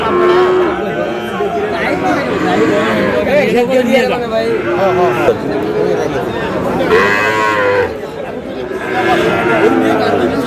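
A Sahiwal bull moos repeatedly in long, loud calls at a busy cattle market at Aftabganj, Dinajpur, over a constant hubbub of crowd chatter and nearby voices.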